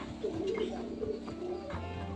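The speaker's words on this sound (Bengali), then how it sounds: "এটা মাদা পায়রা।" A female pigeon of an old-generation fancy breed coos softly in a few low, rolling notes, close by, with faint background noise.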